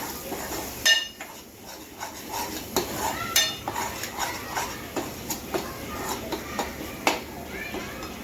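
A spoon stirs turmeric and red chilli powder into a tomato mixture in a cooking pan, giving repeated metallic scrapes and clinks against the pan at an irregular rhythm.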